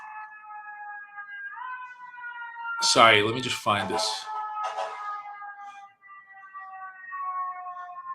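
A siren wails steadily outside, its rising and falling tones running through the whole stretch, faint and distant beneath a nearby voice that talks briefly over it.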